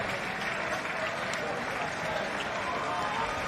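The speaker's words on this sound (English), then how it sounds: "He will get a rapturous round of applause from the Cofis army" A football crowd at the JD Welsh Cup Final, Caernarfon Town against Flint Town United, applauds a substitute coming on, with a continuous, dense wash of clapping from the stands heard at a distance.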